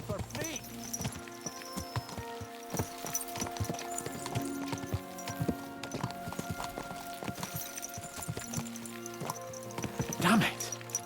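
Horses galloping in the video game Kingdom Come Deliverance II, a continuous rhythmic clip-clop of hooves at close range, with speech and game music underneath and a brief neigh near the end.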